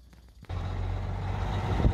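A truck backs up to unload an 8-foot-diameter culvert: a steady, close diesel engine rumble rises and holds, with a reversing beeper sounding over it and a brief air-brake hiss near the end.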